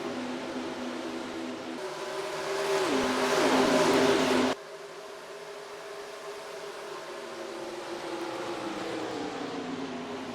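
NASCAR Racing 2003 stock cars circle an oval at Kansas, a steady engine drone swelling loudly as a car passes close by, then dropping to a distant hum.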